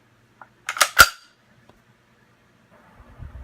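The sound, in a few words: rifle chambering a round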